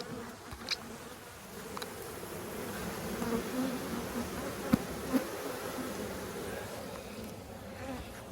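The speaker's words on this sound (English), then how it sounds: "The hive is exploding." Dense swarm of honeybees buzzing steadily around an overflowing hive near canola fields, a continuous close drone with individual bees zipping past the microphone.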